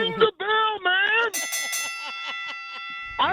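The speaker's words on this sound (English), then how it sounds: "Ring the bell, man." A bright bell on a radio show rings in a quick series of clear strikes with ringing overtones, loud and close, after a short burst of voice.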